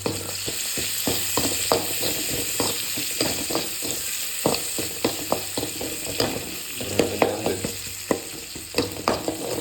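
Shallots and whole garlic cloves sautéing in a pan, a steady close sizzle broken by rapid rhythmic spatula scrapes and knocks against the metal, fairly loud, with no voices.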